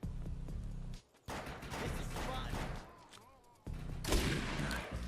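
Dense, rapid gunfire rattles through the shooter video game Defiance in continuous bursts, with a short break before another heavy volley.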